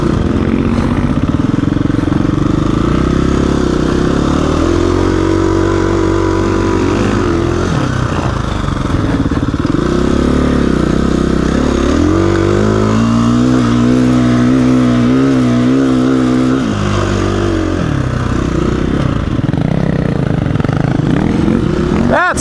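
A KTM 350 EXC-f dirt bike engine labours up a desert climb, loud and close, its four-stroke chug rising and falling in pitch as the rider works the throttle and shifts, with wind roar underneath.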